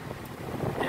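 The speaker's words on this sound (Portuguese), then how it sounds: "O vento já espantou geral." Strong wind roars and buffets the microphone at a seaside fishing spot, a loud, continuous rushing gust that swells toward the end, with no talking.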